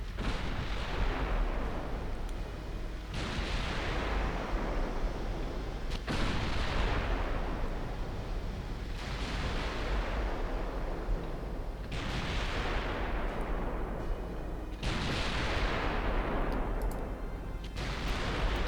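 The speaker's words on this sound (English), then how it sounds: "obscene amounts of shots going out." Battleship artillery fire in Ultimate Admiral Dreadnoughts with big guns booming in loud, regular salvos about every three seconds, each blast decaying into a long rumbling tail.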